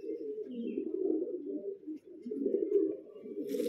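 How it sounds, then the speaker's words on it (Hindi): Domestic pigeons at a loft in Bijnor, Uttar Pradesh, coo in a steady, continuous low murmur, close and alone with no talk. "और ये कबूतर देखिए आप"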